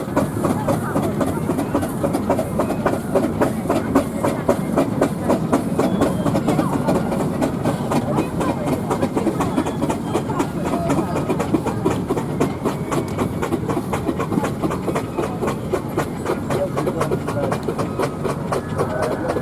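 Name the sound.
steam engines parading into showground arena at steam rally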